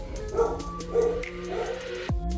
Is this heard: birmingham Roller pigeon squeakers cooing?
no